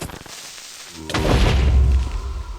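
After a quiet stretch, one heavy Minecraft explosion booms in, and its deep rumble lingers for about a second before slowly easing off.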